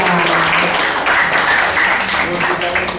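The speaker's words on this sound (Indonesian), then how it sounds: "tepuk tangan dulu" A seminar audience claps warmly in a steady, dense burst of applause lasting about three seconds, loud and close, with voices mixed in.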